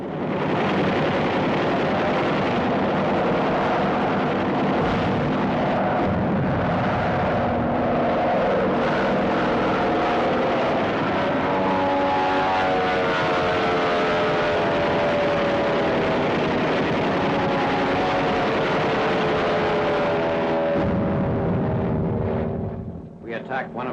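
Propeller warplanes of a December 1944 WWII newsreel, Nazi fighters intercepting bombers over the Rhineland: a continuous loud droning roar with wavering engine tones across the whole stretch, no pause.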